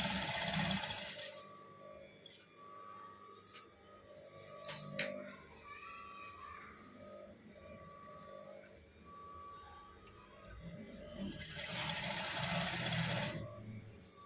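A sewing machine stitches a border onto a saree, its motor whirring steadily in runs with brief pauses and a few sharper mechanical knocks, fairly close and without talk.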